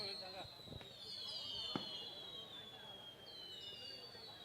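Several sharp firecracker bangs pop at scattered moments near an airport during an outdoor night event, fairly faint and distant, over a high steady whine and a low background rumble.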